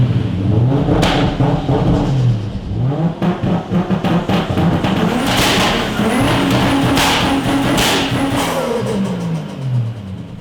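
A loud imported Japanese Chaser car engine revs hard and close, rising and falling in repeated surges with a rough, throaty roar and brief sharp squeals over a constant rumble.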